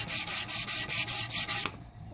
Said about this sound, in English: It's 100 grit, and I'm just sanding down this varnish that they put on.